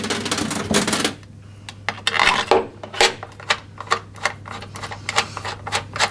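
A Hyundai HYM460SPE petrol lawn mower's battery cover is refitted and its two bolts replaced, producing a series of sharp close clicks, taps and rattles of plastic and metal over a low steady hum.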